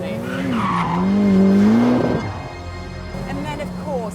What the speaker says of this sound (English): I'm surrounded by that awesome noise from the fantastic V8 engine